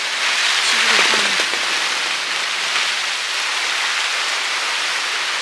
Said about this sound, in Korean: 바람이 불었다가 갑자기 우박이 내린다.